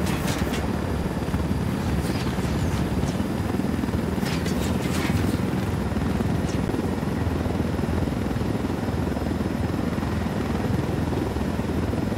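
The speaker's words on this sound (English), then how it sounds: "Down! Get down! Chopper!" Helicopter in the video game Ghost Recon Wildlands, a steady loud rotor drone holding throughout with some brief higher crackles early on, no speech.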